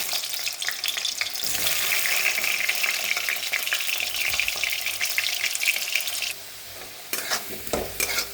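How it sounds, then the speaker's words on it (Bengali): Cut potatoes sizzle in hot oil in a kadai, a loud continuous crackling hiss close by, with stirring scrapes. Near the end the sizzle briefly drops, then a few louder clatters follow. "আলুটা অল্প ভাজা হয়ে গেছে"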